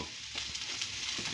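Hot oil in a pan sizzles softly and evenly for a brief moment, a quiet continuous frying hiss with no voices over it.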